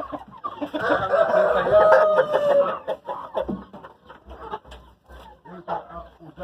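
A brooding hen clucks in low, throaty murmurs at close range, with people talking over and between her sounds.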